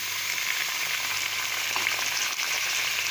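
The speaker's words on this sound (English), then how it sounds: "now I will add in this meat" Meat goes into a pan of light golden fried onions for Bohri haleem and sizzles loudly, a dense continuous frying hiss close up and alone.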